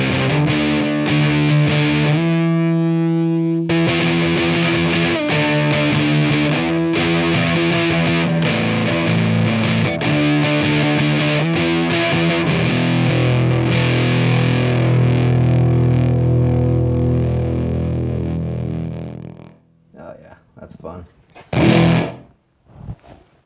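Electric guitar through an EarthQuaker Devices Dirt Transmitter silicon fuzz pedal plays loud, thick, sustained fuzzy chords and riffs. It ends in choked, sputtering bursts separated by short silences.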